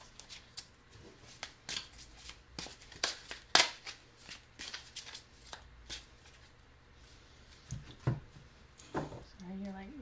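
Spiritsong Tarot cards shuffled by hand in a quiet indoor office, a run of crisp riffling bursts and soft slaps in an irregular rhythm, close and fairly faint, with a little low background hum.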